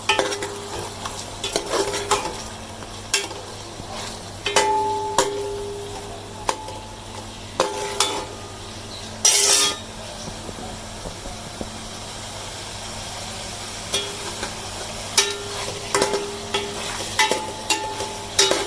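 Garlic paste frying in a pot for chicken korma, with steady sizzling and hissing broken by repeated clanks and scrapes of a metal spoon stirring, close and fairly loud, no voices.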